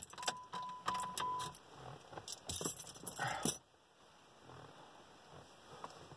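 Car keys jangle in rapid metallic bursts close by during ignition lock picking, then a brief louder rattle before things go quiet.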